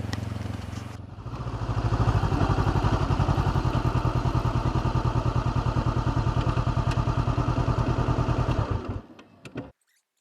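A Honda CB500X adventure motorcycle starts and is ridden, its engine a loud, steady, rhythmic throb close by for several seconds before it dies away abruptly near the end.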